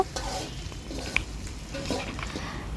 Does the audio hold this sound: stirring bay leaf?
yes